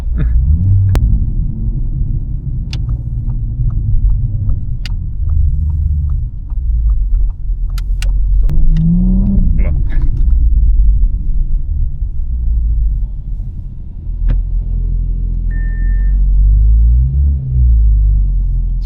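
An Audi S5 Sportback fitted with a downpipe and RS exhaust gives a deep, loud, close rumble that rises and falls as it accelerates, with sharp pops and clicks scattered over the drone.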